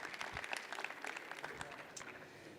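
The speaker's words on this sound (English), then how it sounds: "So perhaps just a quick round of applause to join all of our participants here up on the stage" A modest round of applause from a conference audience for panel participants on stage, faint and scattered clapping over a couple of seconds.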